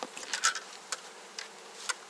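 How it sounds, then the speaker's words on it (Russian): Honey bees buzz at a hive entrance in short, bright bursts, a few close passes standing out over a faint, steady hum. "Так, заходи, пчелочка, заходи."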